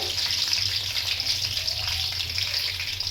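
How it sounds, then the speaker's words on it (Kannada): Tomatoes and green chillies fry in oil in a pan, giving a steady, close sizzle with a bright hiss that holds evenly throughout, and no voices. "ಇಷ್ಟನ್ನು ಚೆನ್ನಾಗಿ ಫ್ರೈ ಮಾಡ್ಕೋಬೇಕು"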